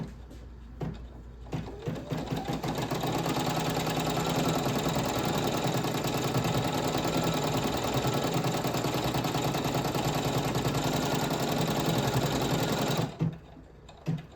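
Embroidery machine with a repositioning hoop stitching in a fast, continuous rhythmic hum and clatter, close and loud, starting after a few clicks and stopping abruptly near the end.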